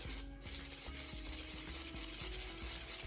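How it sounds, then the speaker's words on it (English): A spoon scrapes and stirs through hard Nesquik chocolate granules, breaking them up in a steady, faint, rhythmic series of scratchy strokes, close by and without speech. "you just want to take your spoon and kind of break them up"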